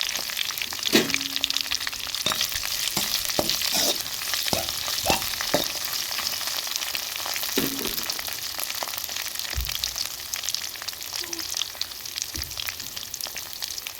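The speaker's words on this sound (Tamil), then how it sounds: "வத்தல் போட்டுக்கிறோம் கருவேப்பிலை சேர்த்துக்கிறோம் நச்சு வச்சு வெள்ளைப்பூடு சேர்த்துக்கிறோம்" Dried chillies, curry leaves and crushed garlic fry in hot oil, giving a steady sizzle throughout with repeated stirring scrapes and clinks of a spoon in the pan, close by and with no talking.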